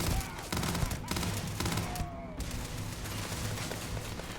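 The Grendel gun fires in Starfield as a steady run of quiet, rapid shots under ongoing game background noise.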